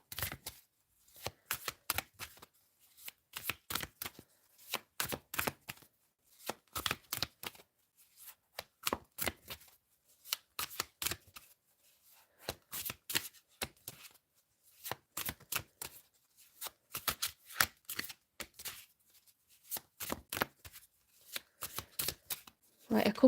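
Tarot cards are shuffled over and over in quick riffling bursts separated by short pauses, a steady crisp rhythm up close with no voices during the shuffling.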